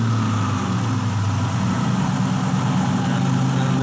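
Ford Mustang Cobra Terminator engine idling steadily with coolant topped up, a close, constant low rumble with an even mechanical hum and no break or change in pitch.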